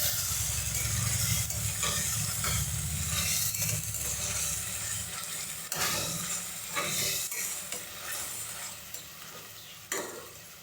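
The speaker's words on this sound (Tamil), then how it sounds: "மசாலா பேஸ்ட்டு சேர்த்துட்டு இதை நல்லா ஃப்ரை பண்ணிக்கலாம்" Onion and masala paste frying in a pan for a peas rice bath, with a dense continuous sizzle and irregular stirring scrapes and clinks, close and steady, with no one talking.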